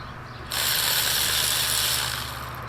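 A ratchet wrench loosening spark plugs on an abandoned Pontiac 400 engine gives a dense, rapid clicking burst lasting about two seconds, close and loud, with no talking.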